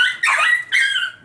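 A dog close by gives two high, strained whimpering yelps in quick succession, with the start of a third at the end.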